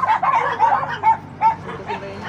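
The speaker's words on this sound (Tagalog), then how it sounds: "May aso tol." A dog barks and yips in a quick run of short, close, fairly loud calls, about five or six in two seconds, with no one talking.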